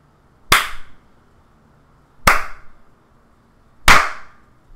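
Three sharp, isolated hand claps, evenly spaced about a second and a half apart, loud and close in an otherwise quiet room.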